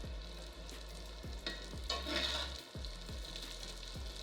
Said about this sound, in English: And then we're gonna saute our shallots.